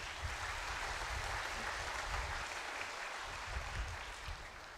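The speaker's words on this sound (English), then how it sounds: "A big applause to the entire team." Audience applause at a drug manufacturing regulation workshop in Vizag, a dense, even wash of clapping from a crowd that carries on steadily with no one talking over it.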